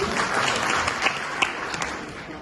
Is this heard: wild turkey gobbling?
no